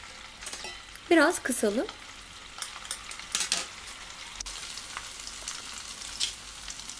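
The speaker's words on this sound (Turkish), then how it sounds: "köftelerimizi çevirerek her tarafını bu şekilde kızartalım" Potato köfte frying in a pan, a steady close sizzle and crackle under a brief spoken remark, with a few sharp utensil scrapes and clinks early on.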